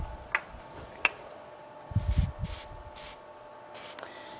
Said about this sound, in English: I get 3 or 4 sprays across there so it'll harden it